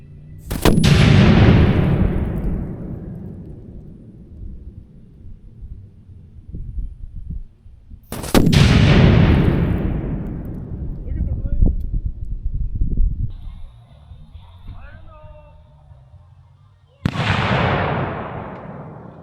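Three Thunder Mug signal cannon shots, the first a 1/4 cup charge, each a loud close boom with a long rumbling decay, spaced several seconds apart, with faint voices between blasts.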